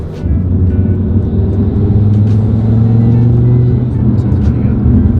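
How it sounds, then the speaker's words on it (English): An Audi RS3 fitted with a 4-inch carbon intake accelerates and builds boost, a loud steady engine drone with rising turbo whine, recorded from inside the car. "Now you can actually hear it spool up."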